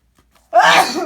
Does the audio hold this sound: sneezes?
yes